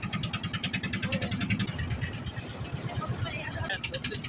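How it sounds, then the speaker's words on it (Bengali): A tourist boat engine runs steadily and loudly throughout at Sada Pathor in Sylhet, a constant mechanical drone with people talking over it. "বোটে আসলে এত শব্দ, কথা বোঝা যায় না।"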